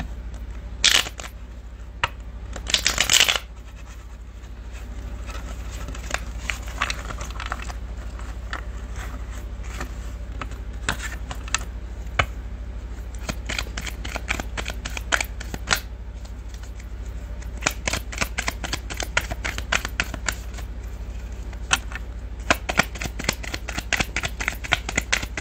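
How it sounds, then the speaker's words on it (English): A quick riffle of shuffled tarot cards near the start, followed by many light clicks and taps of cards being handled and cut, close to the microphone. "Shuffle."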